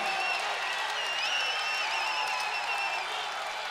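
Crowd at a college men's basketball game cheering and applauding in a steady, dense roar right after a dunk, sustained throughout with a few whistles rising above it.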